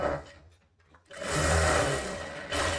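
Close sewing machine stitching seams on a katori blouse, starting after a short pause and running as a steady, even whirr for the rest of the moment.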